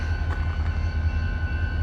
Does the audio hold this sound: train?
yes